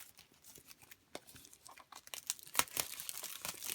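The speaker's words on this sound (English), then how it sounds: "so I'm just cutting the plastic." Plastic shrink wrap being cut and peeled off an iPhone SE Rose Gold box, a close run of crinkles and sharp tearing crackles that grows louder and busier toward the end, with no talking.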